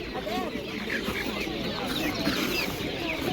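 Goslings peep and chirp in a busy cluster at a market, high, shrill calls overlapping against murmuring market background noise.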